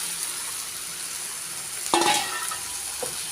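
Banana flower and fried potatoes sizzle steadily in a pan of oil, with a sharp scrape and clatter as the mixture is stirred once, then a fainter stir shortly after.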